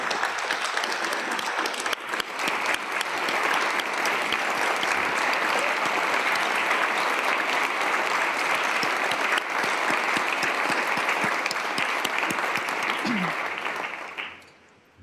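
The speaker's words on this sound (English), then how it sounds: "Please give them a round of applause." Sustained applause from a large audience at the South Dakota state of the state address, loud and dense for about fourteen seconds before quickly fading out, with faint voices mixed into the crowd.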